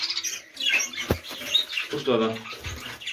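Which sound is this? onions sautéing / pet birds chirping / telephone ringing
pet birds chirping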